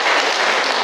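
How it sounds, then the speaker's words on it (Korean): Audience applause from a crowd at a Catholic talk comes through as a dense, steady burst of clapping, loud and brief. "빨리 박수 쳐주소"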